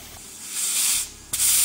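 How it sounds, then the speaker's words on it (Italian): Cut potatoes rinsed under a running tap in a kitchen, a steady broad hiss of spraying water that swells midway, dips briefly, then returns louder and close, with no voices. "cosa molto importante è sciacquarle finché l'acqua sarà limpida"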